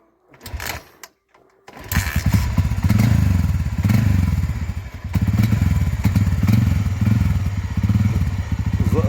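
An old Honda motorcycle is kick-started with a few thumping kicks, then its engine catches and runs, a loud, steady, rattling putter that continues to the end.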